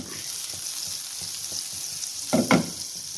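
Chopped garlic and a slit green chilli fry in butter in a pan with a steady close sizzle, a few soft spoon taps and two louder scraping strokes near the end.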